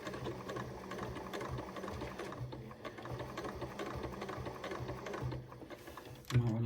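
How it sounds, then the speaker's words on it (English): A sewing machine runs steadily, stitching red curved fabric sections onto white accent fabric for a cathedral window Christmas tree decoration, with a continuous whirring drone and a brief louder thump near the end. "So now we want to sew the red sections, the red curved, on top of the accent, the white."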